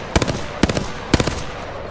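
Hemlok burst rifle firing in the video game Apex Legends; three quick three-round bursts, each a tight cluster of sharp cracks, evenly spaced and close, with no talk.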